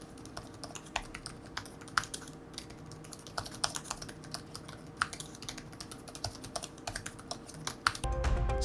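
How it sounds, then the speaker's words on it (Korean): Soft, muted clicks of a Samsung Galaxy Book S low-noise laptop keyboard being typed on steadily at close range, quiet and without voices. "키보드 타건 소리도 저소음 기반이라서 확실히 소음이 적었습니다."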